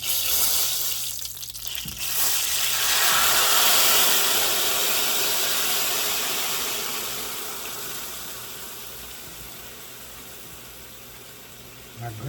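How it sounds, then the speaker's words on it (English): Pork for tamales dropped into hot grease, a sudden loud hissing sizzle that bursts in after a short pause, holds strong, then slowly fades while still sputtering. "it's time to fry this up"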